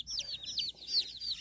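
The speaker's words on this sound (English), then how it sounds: "The babies, most of them are all naked neck chicks." Turken naked neck chicks peeping, a rapid series of high, bright cheeps from several baby chicks close by, overlapping in quick repeated bursts.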